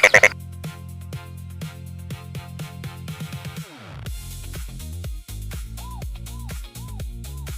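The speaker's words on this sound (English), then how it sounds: "It's a frog" Frog croaking in a repeated series of calls, clear and close, mixed with electronic or musical tones and no talking.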